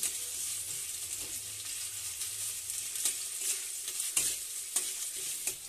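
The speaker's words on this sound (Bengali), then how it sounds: "পেঁয়াজগুলো দিয়ে ভাজতে থাকবো।" Onions fry in oil in a nonstick pan, a steady bright sizzle running throughout with occasional soft scrapes and clicks from stirring, close and moderately loud with no voices.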